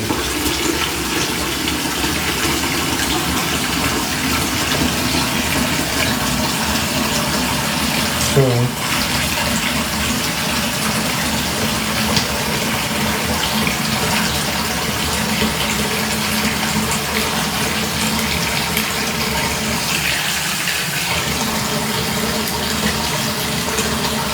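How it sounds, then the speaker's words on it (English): Water runs steadily from a tap into a sink that is being filled all the way up, a continuous close rushing hiss that stays even throughout. "We're going to fill this all the way up."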